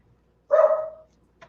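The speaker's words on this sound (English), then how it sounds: "Smokey, quit barking." A single short, sharp bark from Smokey the dog, nearby and clear indoors, followed by a tiny faint sound and otherwise quiet.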